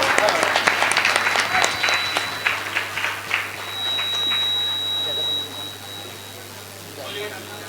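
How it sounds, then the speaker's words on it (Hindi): Applause from an audience honoring a local MLA at a Manas family religious gathering in Charbhatha, with scattered claps in the first seconds fading into a steady crowd murmur and a faint sustained tone. "तालियों से सम्मान कीजिएगा जोरदार।"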